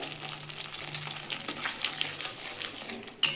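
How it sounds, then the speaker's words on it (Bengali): Banana stem paste frying in a pan with a little sugar and salt, a soft, steady sizzle with faint stirring scrapes and a sharper clatter near the end. "বন্ধুরা এটা ভাজতে হবে"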